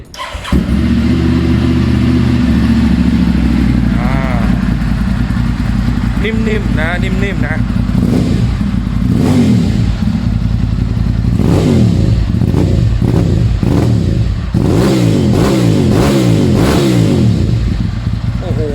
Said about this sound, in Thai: เดี๋ยวฟังเสียงเครื่องยนต์นะฮะ